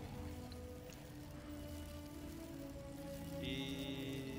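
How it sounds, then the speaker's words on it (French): Hail storm spell in the game Baldur's Gate 3, a steady hiss of pattering ice and rain under low tonal game music, with a bright chime entering near the end. "La tempête de grêle, elle fait pas de dégâts, je crois."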